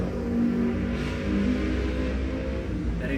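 A small stepper motor drives an Arduino Uno R3 automatic curtain, giving a quiet, steady tonal whir with a low hum underneath that continues without a break.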